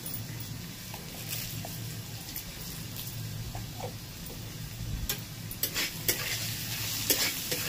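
Spices frying in a pan for vegetarian rice with papad and peanuts, stirred with a utensil: a steady low sizzle under scattered scraping clicks and taps, fairly close, with no talking.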